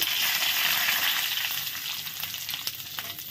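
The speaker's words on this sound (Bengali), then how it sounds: "তেলে আমি দিচ্ছি এখানে 4টা শুকনো লঙ্কা, গোটা জিরে, 2টো গোটা তেজপাতা, আর এলাচ লবঙ্গ দারচিনি গোটা।" Dried red chillies, cumin, bay leaves, cardamom, cloves and cinnamon sizzle in hot oil as a tempering for a jackfruit and prawn curry: a dense, steady crackling hiss, close and continuous, easing slightly in the second half.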